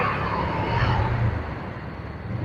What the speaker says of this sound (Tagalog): Ayun o, puro truck ang nadaan.